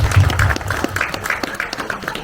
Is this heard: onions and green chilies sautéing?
no